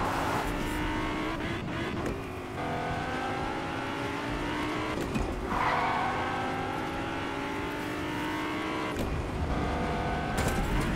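A Whiplash car on bouncy Chonker tires races through Fortnite with a steady buzzing engine note that shifts pitch through gear changes and revs, loud and close, with occasional sharp thumps and a brief squeal.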